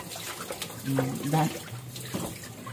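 Water running from a tap into a sink while dishes are washed, a steady splashing trickle with faint clinks, under a person talking.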